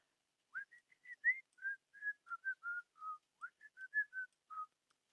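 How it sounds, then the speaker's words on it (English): A person whistles a short, wandering tune close to a microphone, a string of clear, breathy notes at a steady pace with brief gaps, alone and fairly quiet. "I shouldn't whistle into my mic."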